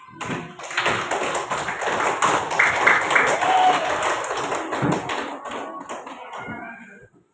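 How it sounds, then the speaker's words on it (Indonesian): A sixth-grade primary school class claps for a pupil who read aloud, with uneven, scattered claps from many small hands that rise and then thin out, and children's voices underneath. "Oke, kasih dulu tepuk tangan sama dia karena udah berani dia membaca."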